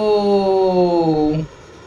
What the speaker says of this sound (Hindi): बहुत दिनों बाद जेट की उड़ान